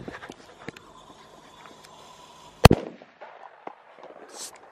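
A firecracker covered with something goes off in one sharp, loud outdoor bang, preceded by faint rustling and footsteps and followed by scattered debris and small noises.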